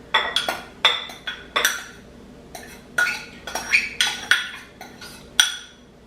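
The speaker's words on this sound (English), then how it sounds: "Now we are going to mix all this together, the rice, the fresh herbs, and the meat all together in this bowl." Cooked rice, fresh herbs and lean ground beef are mixed in a bowl for stuffed grape leaves, with irregular clinks and scrapes of a utensil against the bowl, close and clear.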